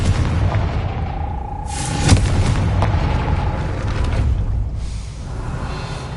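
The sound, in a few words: Confringo explosion spell from the video game Hogwarts Legacy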